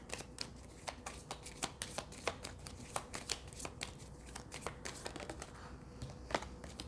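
Tarot cards slid and laid down over other cards on a table, a run of quick, soft, papery taps and flicks in an irregular rhythm, close by and quiet, with no talking.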